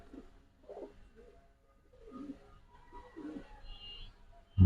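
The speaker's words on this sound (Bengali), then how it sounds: "হেভি হেভি ওয়েট কবুতর একটা" Low, soft coos from heavyweight pigeons at a pigeon farm repeat in short throaty bursts at close range, with a brief loud knock at the very end.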